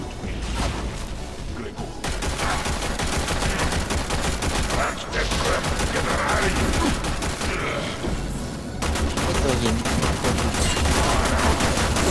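Dense, continuous automatic gunfire from the Warframe video game, loud and close with rapid overlapping shots throughout, with voices talking over the shooting.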